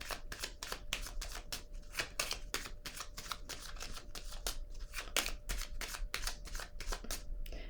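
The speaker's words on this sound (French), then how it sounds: "Je vais déposer une carte ici pour vérifier où est-ce qu'on en est." Cards are handled on a table during a card reading, giving a long run of quick, crisp papery slaps and shuffles, close and fairly even in rhythm, with no voice over them.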